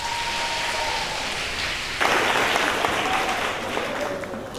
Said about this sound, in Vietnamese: hãy cho một tràng pháo tay